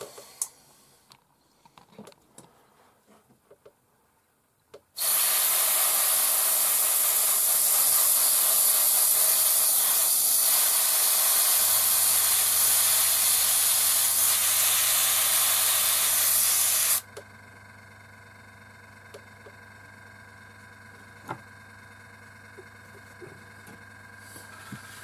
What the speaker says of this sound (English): I'll prepare the airbrush and I'll show you it being painted